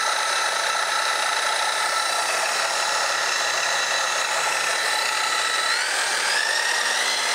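A miter saw turned down to reduced speed, its blade spinning slowly with a steady whirring motor whine and high tonal overtones that hold evenly throughout, close and alone.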